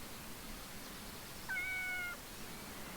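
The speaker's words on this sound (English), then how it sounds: "Pet the kitty." A cat in the video game Yes, Your Grace gives a single short, soft meow when petted, clear and alone against a quiet background.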